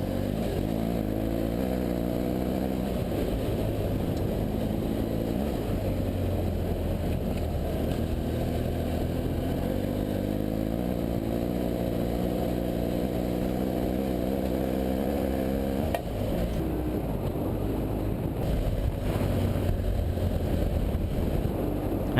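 BMW F800GS dual-sport motorcycles ride fast along a deserted road, the engine droning steadily and loudly close by with shifting pitch as they accelerate, and wind noise rushing throughout.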